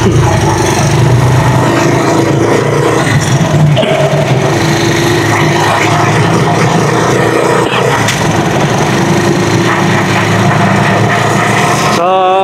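A motor trike engine running on a paved road after a muddy stretch: a loud, continuous rough drone with rattling vibration for the whole stretch, ending with a brief warbling tone.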